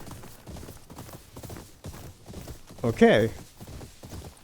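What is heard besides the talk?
horse hooves while riding in video game Ghost of Yōtei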